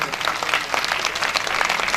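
Audience of devotees claps loudly for visitors at a Srimad Bhagwat Katha gathering in Agra, a sustained, dense burst of many hands that stays at an even level from start to end.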